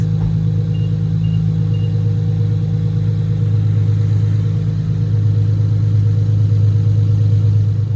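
Car engine idling steadily, a close, constant low rumble with an even mechanical hum throughout, no talking.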